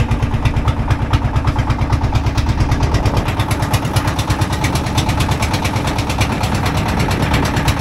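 A motor trawler boat's engine chugs past on a river, a loud, steady rapid putter with fast even pulses throughout.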